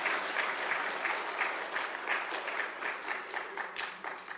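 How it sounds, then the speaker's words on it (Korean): Church congregation applauding during a worship service, a steady round of many hands clapping at moderate distance that continues throughout without pause. "근데 박수는 왜 쳐?"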